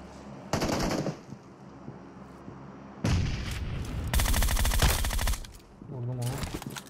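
Gunfire from a shooting video game: rapid automatic bursts in several loud stretches with short gaps, heavy and close, with brief game voice and effects between volleys.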